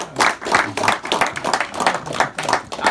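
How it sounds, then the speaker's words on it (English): Audience applause for a mayor welcomed at a political speech held at a local staging area, a crowd clapping steadily for about three seconds with irregular bursts, fairly close and loud, and no talk over it. "Everybody give him a round of applause."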